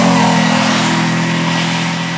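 A Mitsubishi Evo 8 Group A rally car at the 2005 St. Agatha rally accelerates hard, its engine roaring loud and close throughout the brief burst.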